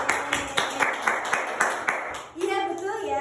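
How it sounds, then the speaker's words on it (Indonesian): In a classroom, a small group gives about eight crisp, evenly spaced claps for students who answered a question. The clapping is clear and near, and a voice starts speaking right after it stops. "tepuk tangan buat mereka"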